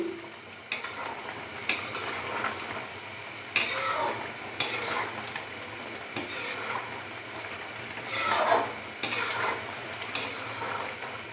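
Mutton karahi with dried red chillies is stirred in a wok, a ladle scraping and clanking in irregular strokes over a steady sizzle of hot fat, close and fairly loud with no talk.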